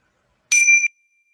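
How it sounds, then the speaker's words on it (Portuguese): A small meditation bell is struck once, giving a clear, bright ring that fades quickly, alone in otherwise complete silence before a guided meditation. "eu vou dar uma batidinha de sino"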